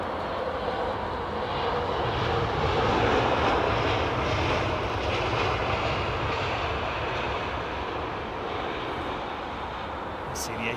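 Airliner engines roaring on landing approach to runway 27R, a loud, broad, sustained rumble and whine that rises slightly and then holds steady, close and dominant, with a voice faintly underneath.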